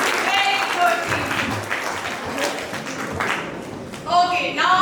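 Classroom audience clapping for a team after a correct answer at a school space science quiz competition, a steady round of applause lasting a few seconds, with voices and some talk mixed in near the end.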